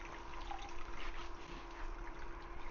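Hot cleaning liquid drains out of a Nash Solutions filter cleaner with a soft, steady trickle, faint and continuous with a constant hum behind it.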